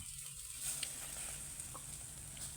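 Marinated pork intestines sizzle on a grill, a steady faint crackling hiss with small pops and no talking.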